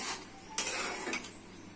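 A metal lid set onto a cooking pot of chickpeas and potatoes, a single sharp clank followed by a brief rattle over faint background hiss.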